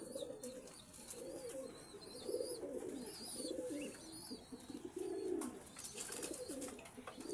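Several pigeons coo nearby in soft, rolling bursts that repeat through the scene, with faint chirps from smaller birds high above and a quiet background hum.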